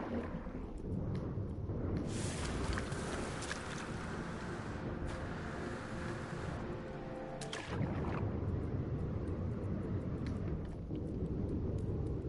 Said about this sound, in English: This thing is just too noisy. It's one thing I noticed about the exotics. They make a lot of noise